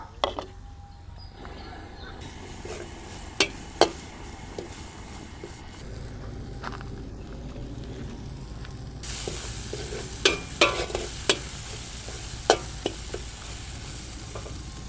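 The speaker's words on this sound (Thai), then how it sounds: "ผัดลงไปเลย" Pounded curry paste is stir-fried in a pan for a spicy Thai eel and snakehead fish dish, giving a steady sizzle with scattered sharp spatula scrapes and knocks against the pan, and a hiss that grows louder partway through.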